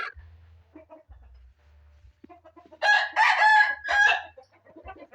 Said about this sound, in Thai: เดี๋ยวเรามาฟังเสียงไก่ที่หัวไข่กันนะคะ